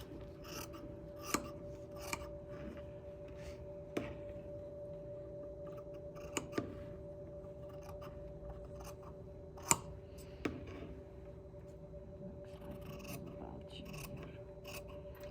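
Scissors make sharp, scattered snips through bias-cut dress fabric while trimming an even hemline, the crisp cuts spaced irregularly over a steady low hum in a quiet room.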